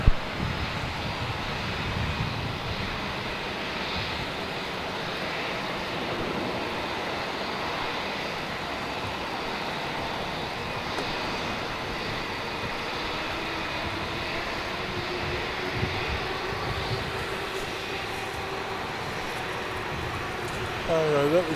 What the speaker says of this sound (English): that was 525 Jetstar arriving on 27